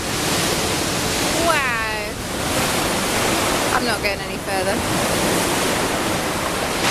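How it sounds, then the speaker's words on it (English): Ocean waves crashing onto the pebble beach at Kynance Cove, Cornwall, a loud continuous roar with surging swells and gusty wind buffeting the microphone, while someone speaks briefly over it. "Those waves are amazing. They're crashing in down there."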